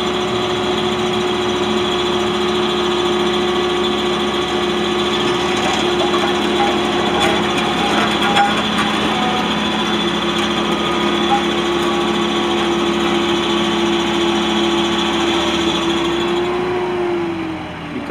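A 1994 Caterpillar CP-433B compactor engine runs nearby with a steady, unchanging mechanical drone and a high whine above it, holding constant before cutting off at the very end.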